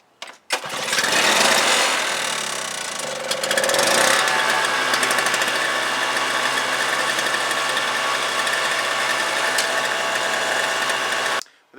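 A Toro CCR 2000/3000 snowblower's small Suzuki two-stroke engine, freshly fitted with a rebuilt Mikuni carburetor, catches after a few pulls and settles into a loud, steady, buzzing idle with a faint mechanical rattle, running alone without voices.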